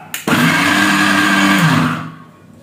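An electric grinder whirs loudly as it grinds homemade blue Gulaal powder, starting after a brief click and running steadily for about two seconds before winding down into silence.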